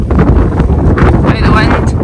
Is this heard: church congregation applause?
no